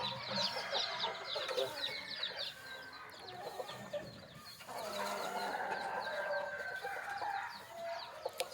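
Chickens and chicks cluck continuously in a busy chorus, with overlapping calls and an occasional rooster-like crow, close by and fairly loud throughout.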